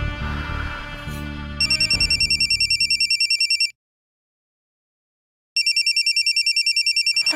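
A telephone rings in bursts of rapid electronic trills, loud and close, pausing in silence before ringing again, after a stretch of dramatic music.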